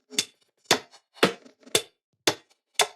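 Electronic percussion loop for a dance track, set half a beat off so it lands between the kicks: six crisp, bright hits evenly spaced with short silences between them, close and dry, with no kick or voices.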